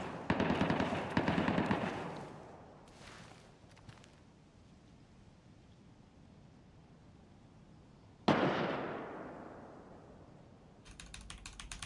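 Gunfire in the video game Escape from Tarkov: clattering bursts of rapid shots, then a sudden loud crack that fades into a long echoing tail, with quieter rattling at the end.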